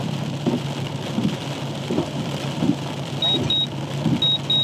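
Rain falls steadily during a storm, a constant hiss with soft rhythmic thumps underneath and a few thin high beeps late in the clip.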